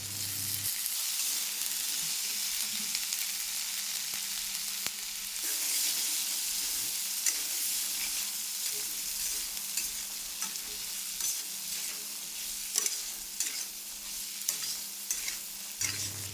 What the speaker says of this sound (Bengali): এবার পেঁয়াজ কুচি কাঁচা লঙ্কা কুচি দিয়ে সেদ্ধ করে রাখা ছোলাগুলো দিয়ে ভালো করে মিশিয়ে নেব